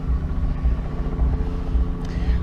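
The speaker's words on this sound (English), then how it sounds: "I heard the helicopter." A helicopter approaching in an outdoor wooded setting gives a low, steady rumble that sits in the distance and holds throughout, with no talking over it.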